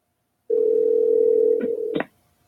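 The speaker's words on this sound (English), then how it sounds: "It's ringing." A telephone call rings through an earpiece as a single sustained tone lasting about a second and a half, ending in a couple of sharp clicks before silence.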